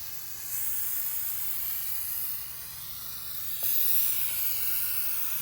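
Gum cutter sprays steadily from an aerosol can beside a freshly painted wheel rim, a continuous close hiss lasting several seconds that swells slightly louder toward the end, with no voices over it.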